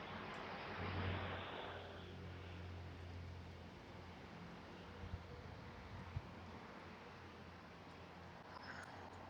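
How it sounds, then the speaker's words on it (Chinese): Distant outdoor road traffic rumbles as a faint, continuous wash, one passing vehicle swelling early on, with light leaf rustle and small clicks, no talking. "那附近呢有一点树叶的环境声，然后有很多车声"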